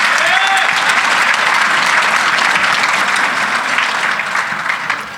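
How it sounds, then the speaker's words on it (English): An awards-event audience gives the board members a steady round of applause, dense and close, holding at full strength before tapering slightly near the end. "let's have a round of applause for the board members"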